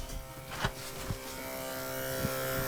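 An electric fuel pump runs on a 1950 Ford, giving a faint steady buzzing hum with a few soft clicks and knocks breaking through.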